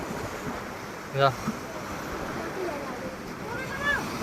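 Large sea waves wash against the shore near a temple at Dwarka, a soft continuous surf roar with wind, faint and distant, while people speak briefly over it.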